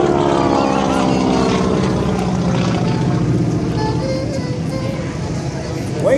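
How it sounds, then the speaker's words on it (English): A T6 warbird flying a hammerhead turn at an air show in Atlanta, Georgia, producing a loud, continuous radial-engine drone that slowly shifts in pitch, with an announcer talking over it. "in a T6, and that is the hammerhead turnaround, and doing it well"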